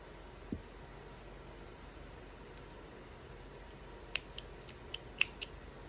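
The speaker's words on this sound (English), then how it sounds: "I use scissors, and I recommend that you also do." Several quick, crisp snips from a pair of scissors cutting chunky yarn close by, clustered near the end over a quiet hiss.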